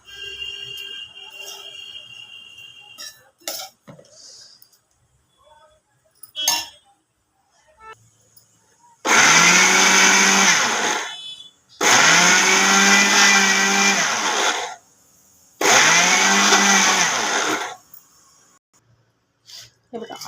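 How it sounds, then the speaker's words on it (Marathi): A kitchen mixer grinder grinds a few cardamom pods in three loud bursts of whirring motor, each a couple of seconds long, switched on and off with pauses; earlier quieter clinks and handling noises. "याला आपल्याला मिक्सर चालू बंद करत फिरवून बारीक करून घ्यायचे"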